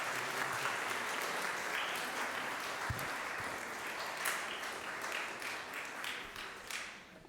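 Applause fills a church during a Mass, steady clapping from a congregation that carries on throughout and tapers slightly near the end.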